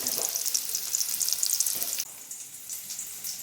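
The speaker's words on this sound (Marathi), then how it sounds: "मम्मी फोडणीक टाकता सगळा कांदो आणि मिरची टाकला ना" Chopped onion and green chili sizzle steadily in hot tempering oil, a bright close frying hiss that drops to a softer simmer partway through, with no talking.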